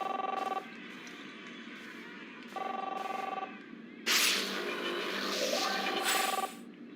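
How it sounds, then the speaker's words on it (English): A telephone rings in the video game Captain Spirit, sounding in three clear bursts of an electronic bell, the last overlapped by louder game sounds and music, with no voices. "answer the phone"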